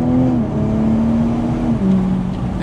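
A 2019 BMW Z4 M40i with a 340-horsepower 3-litre B58 six-cylinder engine pulls hard under acceleration, a steady close engine drone that shifts pitch once partway through, heard from inside the car without talking.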